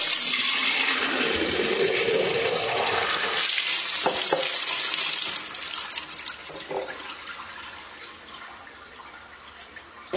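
Tap water gushes loudly into a sink at first, then drops to a quieter trickle with a few splashes near the end, in a home in Georgia near Lagodekhi.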